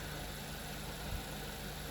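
Nissan Juke 1.2 turbo engine idling, a steady low mechanical hum and faint vibration throughout, heard up close with no voices.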